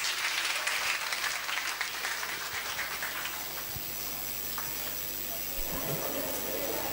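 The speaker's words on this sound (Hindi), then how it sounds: "जोरदार तालियां हो जाए।" A crowd at a girls' college cultural festival on stage breaks into sustained applause, a dense steady patter of many hands filling the room, fairly distant, with faint voices mixed in.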